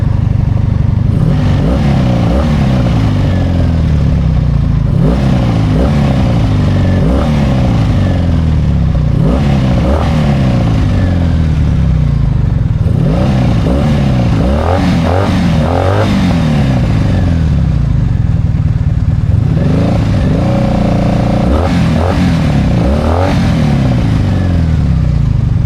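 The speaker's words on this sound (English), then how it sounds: "This motor likes to rev pretty well." A motorcycle engine, still warming up, is revved again and again: loud, close, repeated rising and falling bursts of revs over a steady idle, each swell climbing sharply then dropping back.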